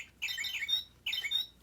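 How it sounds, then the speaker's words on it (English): Birdsong chirps from a Baby Einstein sound book button: two short, bright bursts of twittering calls separated by a brief pause, fairly quiet and alone. "or even the square where it shows the birds chirping."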